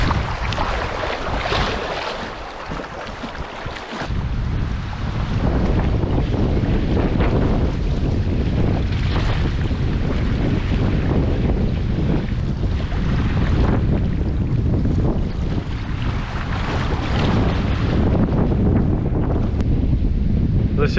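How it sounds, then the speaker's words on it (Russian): Strong wind gusts across a river on a kayak trip in the Subpolar Urals, a loud continuous broadband roar buffeting the microphone and sustained for the full length after a brief quieter start. "Сейчас поднялся такой сильный ветер."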